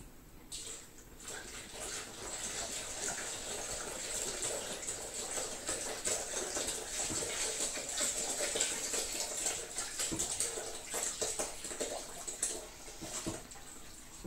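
Milk, one liter of it, poured into a Moulinex DJC141 Yogurta yogurt maker, making a steady continuous splashing pour that lasts throughout at close range, with no talk over it.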